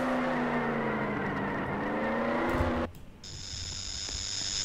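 A car engine in the Roblox game Jailbreak drones loudly with a rising rev, then cuts off abruptly and gives way to quieter game sounds and a steady high tone.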